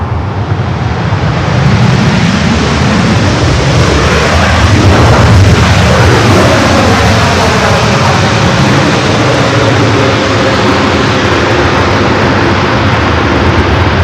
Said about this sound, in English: This is the flight coming from Tokyo to Narita, the 787-9 Dreamliner.